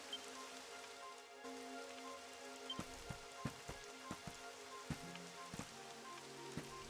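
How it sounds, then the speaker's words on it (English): Rain beginning in a Dragon Quest XI cutscene: a soft, steady patter of drops with scattered sharper ticks, faint and distant under a quiet, sustained musical tone. "It would have to go and start raining, wouldn't it?"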